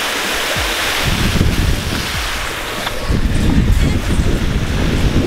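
A backyard waterfall on a 21,000-gallon fish pond pours water down into the pond, a loud, continuous rushing splash with wind buffeting the microphone and no voices.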